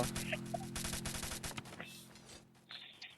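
Rapid bursts of gunfire from the video game Free Fire, dense overlapping shots through the first half and a few later, with in-game beeps and faint background talk mixed in.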